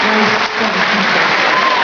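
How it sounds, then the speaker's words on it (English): Audience applause for sea lions at a show in Knowsley, a dense, steady patter of clapping from a crowd, brief and fairly loud, with a voice over it. "Give them both a nice big round of applause for them."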